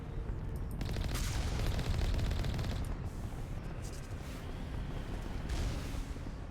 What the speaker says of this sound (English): And they shoot rockets after they die.